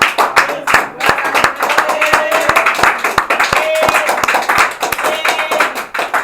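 A church congregation applauds loudly and steadily, dense rapid hand claps filling the room, with voices faintly mixed in beneath the clapping.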